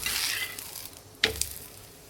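Kanda dhapata, an onion flatbread, sizzles in a little oil on a hot pan, a soft steady hiss that fades somewhat, then a sharper crackle and pop about midway before settling back to a quiet fizz.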